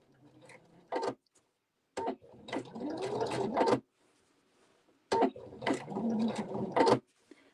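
Husqvarna Viking sewing machine stitching quick quilting lines through a quilt-as-you-go mug rug, heard as two close, steady mechanical runs of whirring stitches separated by short pauses and brief clicks.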